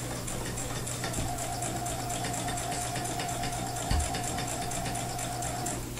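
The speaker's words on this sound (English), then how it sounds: "I'm going to sew that same diagonal seam" Sewing machine stitching a diagonal seam on quilt binding strips for a flange binding, a steady close mechanical whir running throughout, with a brief thump near the end.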